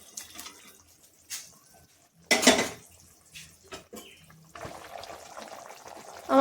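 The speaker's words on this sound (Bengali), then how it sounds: "একটা একটা করে মাছ দিচ্ছি।" Rohu fish pieces go one at a time into a hot pan for a light Bengali curry, each drop setting off a burst of sizzle and clatter amid kitchen clinks and a tap-water wash.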